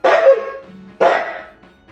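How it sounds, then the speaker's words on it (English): Two sharp barks from a dog indoors in an empty house, each a loud close burst that trails off, the second coming about a second after the first. "The dog was acting strangely, barking, jumping, and looking around as if someone was there"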